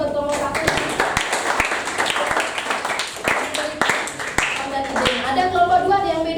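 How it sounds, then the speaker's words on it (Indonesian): A classroom group claps for the first student team, scattered individual claps and a few sharp hand slaps over a teacher's voice and murmuring students. "Tepuk tangan buat kelompok 1."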